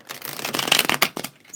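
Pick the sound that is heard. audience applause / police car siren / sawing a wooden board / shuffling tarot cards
shuffling tarot cards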